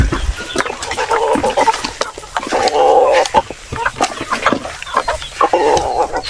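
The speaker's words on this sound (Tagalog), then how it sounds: "Yung ating mga Muscovy duck at saka native chicken nagwawala" Native chickens and Muscovy ducks on a farm raise a loud, continuous commotion of clucks and squawks, close by and overlapping with scattered sharp bursts.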